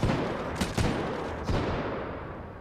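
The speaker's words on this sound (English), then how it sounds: "I panic shot." Several loud gunshots from the shooter game Titanfall 2 burst out in quick succession, two close together and then a third, each with a short ringing decay and no talking.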